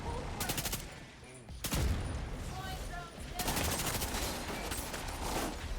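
Machine gun fire in The Division 2 comes in long rapid bursts separated by short pauses, loud and close, with speech underneath.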